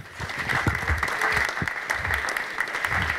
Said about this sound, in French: Que vous pouvez applaudir